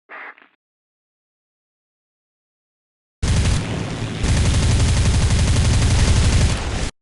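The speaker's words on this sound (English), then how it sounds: "Your machine guns and cannons are perfect for hitting light targets with poor armor protection." Aircraft machine guns and cannons firing in War Thunder, a dense loud continuous burst of rapid gunfire starting abruptly after near silence and running for several seconds, preceded by a brief faint blip.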